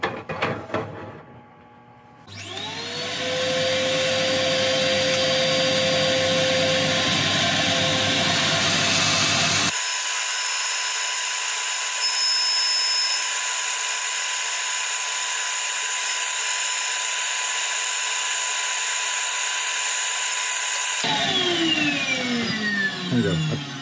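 A wood-turned piece with a metal inlaid rim is sanded on a spinning lathe, giving a loud, continuous whirring hiss that holds steady for about twenty seconds before winding down.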